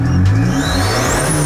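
A Ford Ranger Raptor engine revs hard through a stainless 3-inch powder-coated snorkel, a short loud close rising roar with no voices over it.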